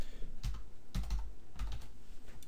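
A computer keyboard clatters in three short bursts of quick keystrokes, close and clear, with brief pauses between the bursts.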